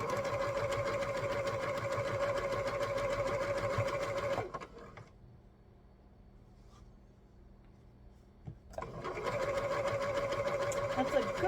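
Sewing machine stitching fabric for a bargello quilt block, a steady, fast mechanical whir running loud and close, stopping for a few quiet seconds before starting again at the same pace.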